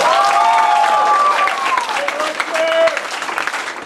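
A crowd applauds yellow belt students at a martial arts belt ceremony at a family martial arts center in Mount Dora, steady clapping close by with voices calling out over it.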